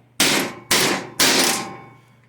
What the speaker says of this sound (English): we just take a hammer and knock that old bushing out